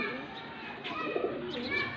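Pigeons at a loft in Faisalabad cooing softly and fairly close, several low murmuring coos over faint background noise, with a brief chirp mixed in.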